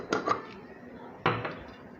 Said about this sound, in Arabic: اقلب البيضه كده في اللبن كويس لما تختفي خالص كده